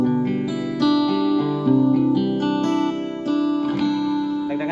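Electric guitar chords ring through an M-VAVE Tank G reverb pedal set to a low mix and moderate decay, several strummed changes sustaining into a washy, slightly distorted tail, played alone.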